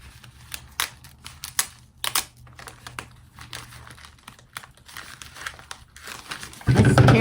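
Wrapping paper, brown craft-colored, torn and crinkled off a heavy round package, with repeated sharp rips and rustles in irregular bursts, followed by a louder sustained crumple at the end.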